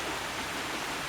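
A waterfall gives a steady, dense rush of falling water, close and continuous for the whole moment, with no talk over it.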